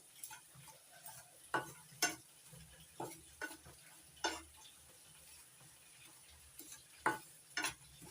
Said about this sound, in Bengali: এবার সুজি দিয়ে একটু হালকা করে ভেজে নেব